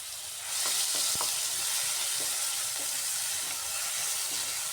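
Tomato paste and a pinch of salt sautéing in a pan, a loud continuous sizzle that swells after the first half second, with a few faint utensil clinks while stirring, close and with no voices.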